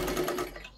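A sewing machine stitches a folded blouse hem in a short close burst that fades out toward the end, with no talking.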